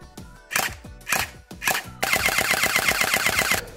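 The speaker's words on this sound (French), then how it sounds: "On a une grande cadence de tir comme tu peux le voir" Zhenduo X5 gel blaster fires three short bursts, then a sustained rapid stream of evenly spaced shots at a high cyclic rate, close and loud.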